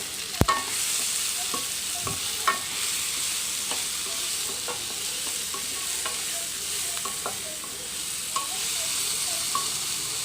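Onion, ginger and garlic sautéing in a pan for a squid curry, a steady close sizzle broken by intermittent scrapes and clicks of a stirring spoon, with no talking.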